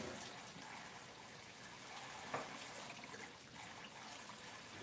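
Warm tap water runs in a low, steady trickle and splash from a faucet while eggs are washed with a little soap, faint and continuous with one brief clink partway through.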